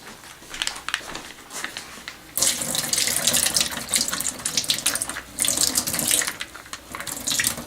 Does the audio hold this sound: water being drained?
yes